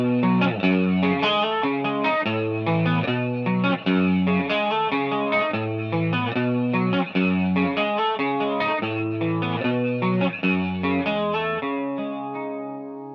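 An electric guitar with a chorus-like effect plays an arpeggiated riff, cycling steadily through four chords, loud and close, then letting the last notes ring out.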